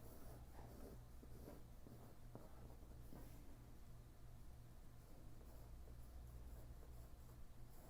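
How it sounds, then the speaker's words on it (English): A colored pencil makes light sketching strokes on paper, a soft, steady scratch of short strokes close by, with a low hum underneath and no talk. "With pencil, because you start out very lightly, a pencil stroke is just a very light sketch."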